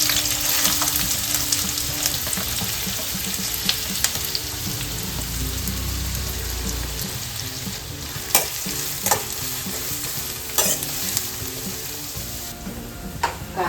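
Onion and green chili fry in a pan for a moringa leaf stir fry, producing a dense, continuous sizzle with ongoing stirring and a few sharper scraping knocks toward the end; no one speaks.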